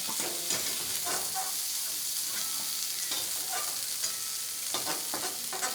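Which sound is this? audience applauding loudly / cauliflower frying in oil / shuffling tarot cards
cauliflower frying in oil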